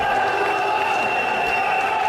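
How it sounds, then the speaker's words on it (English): A wrestling arena crowd roars wildly at a hardcore match, a loud continuous wash of cheering and shouting with no break. "The crowd getting absolutely wild now"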